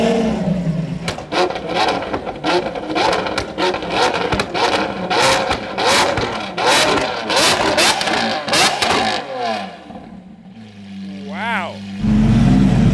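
A sports car engine, an SVJ supercar, revs loudly in short bursts mixed with passing traffic, with one clear rising rev near the end and people talking throughout.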